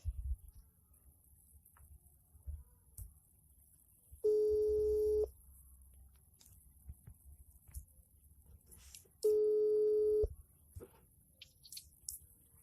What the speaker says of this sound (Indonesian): Langsung aja kita telepon ya.